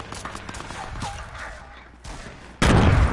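A grenade explodes in a PS4 shooter video game: scattered crackling gunfire, then a sudden, loud, close blast that fills the last half second.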